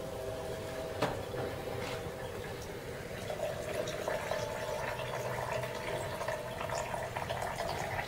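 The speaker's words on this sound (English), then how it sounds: "See it bubbling?" Water bubbling and fizzing inside a homemade 12 volt chlorine generator, a faint, continuous stream of small pops and gurgles heard up close, with a few sharper clicks and no talking.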